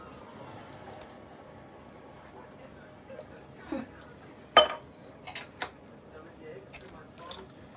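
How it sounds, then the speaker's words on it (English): A spoon stirs a jackfruit burger mixture with sweet corn in a bowl, making sparse clinks and scrapes, including one sharper knock, quiet and close under faint background voices. "Right, then give that lot a good stir, Harry."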